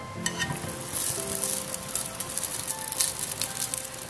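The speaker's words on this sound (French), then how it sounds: "je coupe mon escalope avant de les passer à la poêle" Pieces of chicken escalope fry in a pan, giving a steady dense sizzle with crackles and pops throughout, close and alone without speech.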